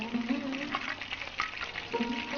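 Whole spices, including cumin, frying in hot oil at a quiet, steady sizzle with light crackling pops, close by and with no talk over it.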